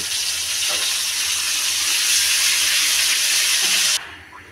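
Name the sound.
lentils added to fried garlic and onion, sizzling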